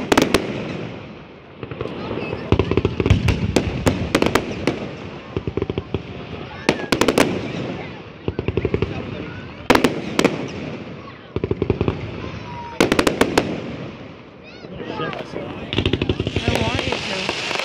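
Fireworks on the west side crack and pop in repeated bursts, some in rapid clusters, at moderate distance, with people talking underneath.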